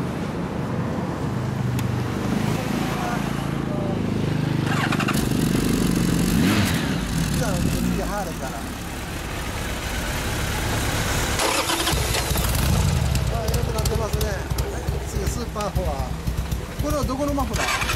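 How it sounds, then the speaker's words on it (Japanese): A motorcycle engine is started and runs at a steady idle, fairly close, with people talking over it throughout. "あ、エンジンかけた。"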